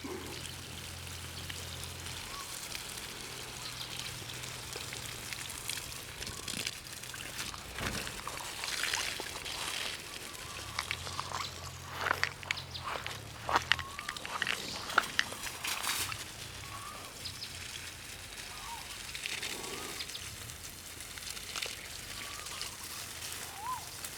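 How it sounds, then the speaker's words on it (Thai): Water from a garden hose running at low pressure onto potted plants during dry-season watering, a steady soft pour and splatter heard close by throughout. "น้ำก็ไหลไม่แรงเท่าไหร่"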